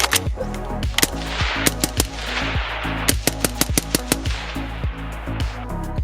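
A suppressed thermal-scoped rifle fired in rapid succession, giving a steady train of sharp, muffled cracks about every third of a second over a constant low rumble, with no talking.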